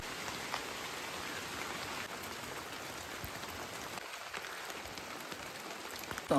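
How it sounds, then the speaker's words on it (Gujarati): Steady rain patters down across a deep mountain forest at a night campsite, a soft, even hiss of drops that continues unbroken, fairly faint and distant. "વરસાદ તો ઘણી વાર તો ચાલુ છે ને કાંઈ બંધ થતો નથી."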